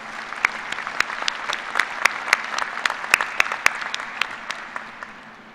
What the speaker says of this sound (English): Please join me again in a round of applause for all of these individuals.